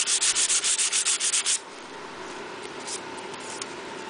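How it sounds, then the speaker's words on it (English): Hand sanding of dyed wood with 220-grit sandpaper, a rapid run of about a dozen loud, rhythmic rubbing strokes lasting roughly a second and a half, then quiet. "Just sand it off with 220."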